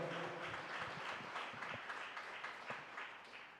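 Congregation applauding loudly together in church during a live worship service, a dense, steady wash of many hands clapping at close range that fades slightly toward the end.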